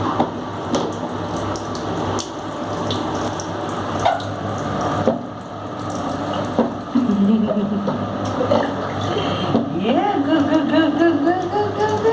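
Water poured and splashing over a five-month-old baby boy during a bath, continuous running and trickling close by, with a baby's cry rising near the end.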